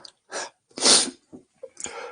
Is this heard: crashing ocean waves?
no